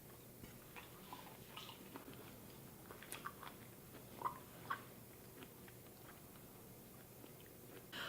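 Raw baby lamb kidney is chewed close up in quiet, soft, irregular wet bites and squishes, with a few slightly louder crunchy moments scattered through.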